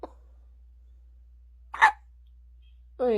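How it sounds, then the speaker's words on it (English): A baby's hiccups, two distinct short hiccups about a second apart at close range, each followed by a brief quiet pause, with the onset of a voiced sound at the very end. "Want to say bye-bye to the hiccups?"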